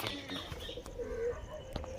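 An old pigeon of a racing and flying breed coos softly, one low murmuring call in the middle, with faint chirps and light rustles from a loft setting in the background.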